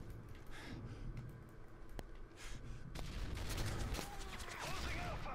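M16 assault rifle burst fire in Modern Warfare 3, repeated sharp cracks over busy game noise, with someone talking over it.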